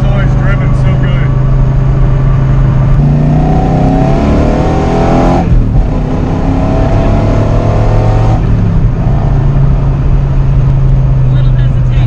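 A Nissan Z car engine pulls hard through the gears under acceleration, loud and close from inside, with the revs rising and falling at a shift while people talk over it.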